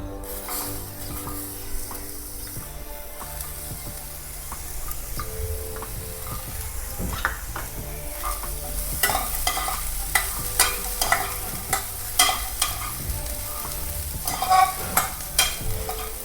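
Cooked val beans stirred into wild greens frying in a pan, a soft steady sizzle under repeated scraping and clacking of a spoon that grows louder toward the end, with no talking.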